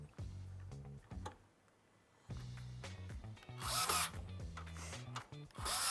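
An electric screwdriver whirs in several short bursts separated by pauses, close and fairly quiet, with clicks and handling noise between the runs; no talking.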